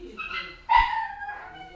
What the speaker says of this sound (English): they're just using that vacuum to torture the dog